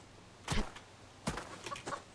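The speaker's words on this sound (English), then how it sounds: "I'm going to try and catch this chicken." Chicken clucking in the survival video game Subsistence, a few short, fairly faint squawks in two bursts over a quiet background.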